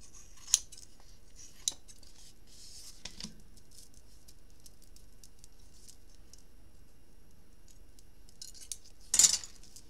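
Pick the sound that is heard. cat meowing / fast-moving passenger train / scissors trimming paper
scissors trimming paper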